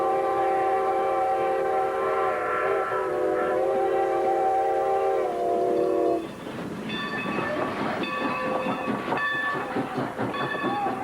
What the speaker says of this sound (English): That's a whistle that deserves to be blown at like 60 miles an hour, not 20.